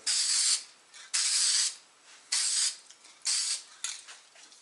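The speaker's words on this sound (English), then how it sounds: "I don't do spray paint a lot" Four loud bursts of aerosol spray hissing, each lasting about half a second, with short gaps between them, close by.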